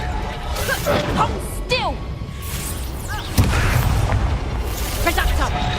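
A Reducto spell blast in the Hogwarts Legacy video game lands as a sudden booming impact amid fast combat whooshes and crashes, with a voice talking over the action.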